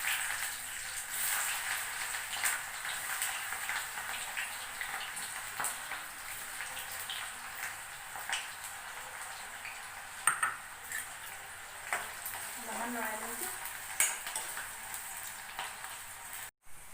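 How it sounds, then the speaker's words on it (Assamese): Onions fry in plenty of oil with dried red chillies and bay leaves, a soft steady sizzle running throughout, joined by occasional clinks of a utensil against the pan, close and without talk. "এতিয়া পিঁয়াজখিনি দি দিম।"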